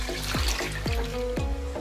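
Water poured from a tap into a cooking pot of washed, unsoaked lentils for haleem, a steady close trickle and splash with no talking.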